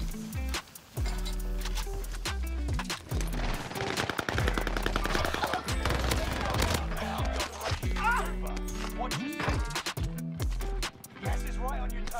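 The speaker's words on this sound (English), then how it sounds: "I'm being shot from somewhere" Gunfire in Warzone rattles in rapid automatic bursts, sharp and close, with scattered single shots and impacts, while players talk over it.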